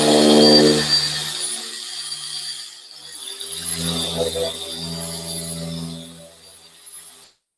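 A Chemical Guys Torx buffer polishes with compound at speeds up to about 4,000 RPM. Its close motor whine dips in the middle, then builds again into a rougher grinding buzz before cutting off abruptly.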